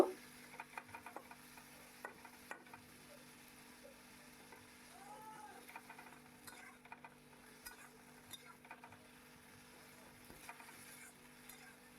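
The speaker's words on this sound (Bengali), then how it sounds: "কুল দিয়ে ভালো করে নেড়ে চেড়ে নেবো" Bottle gourd and jujube chutney being stirred in a pan, a quiet steady sizzle with soft scraping and tapping of the spoon against the metal, faint and close, with no talking.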